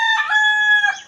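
A single rooster crows once, close and clear, a short bright harmonic call lasting about a second with no other sounds around it.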